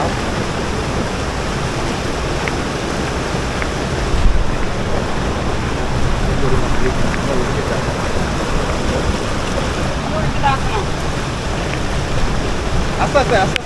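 Rushing water from a hillside waterfall and a strong current roars as a loud, steady broadband wash throughout, with faint voices beneath it.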